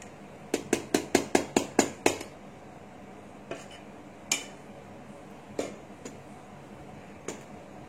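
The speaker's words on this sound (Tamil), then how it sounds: "நல்லா சுத்தி இருக்கிற மாவெல்லாம் நடுப்பக்கமா கிளறி கொண்டு வரணும்." A wooden spoon knocks against a vessel while adhirasam dough is stirred, a quick run of about nine sharp clacks followed by scattered single knocks, close and fairly loud, with no talk.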